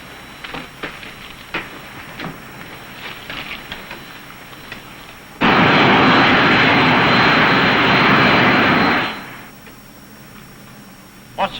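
Aircraft engine during climb held near 2,000 RPM: a sudden loud, steady roar cuts in midway for about four seconds, then drops away, with scattered faint clicks and knocks before and after.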